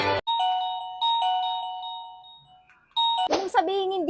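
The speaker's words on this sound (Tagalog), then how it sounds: "sobrang mura lang ng wireless doorbell na to" A cheap wireless doorbell plays its chime: a run of clear, ringing electronic tones that fade over about three seconds, then the tune starts again and is cut into by a person talking.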